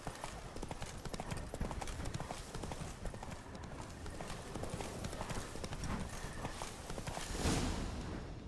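Roach, the horse in The Witcher 3: Blood and Wine, galloping with a fast, continuous clatter of hoofbeats that stays loud throughout.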